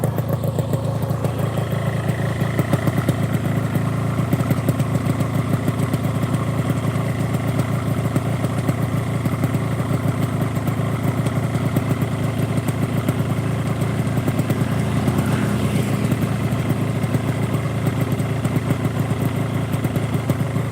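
A ported maxi-scooter engine runs steadily at high revs for the whole stretch, a loud, constant buzzing drone with a clattery edge and no voices.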